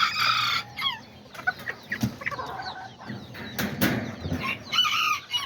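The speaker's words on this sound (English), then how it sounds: "I ended up moving my little Azteca roosters" Small Azteca roosters cluck and call close by in a run of short, repeated notes, with occasional louder squawks and a bit of wing flapping.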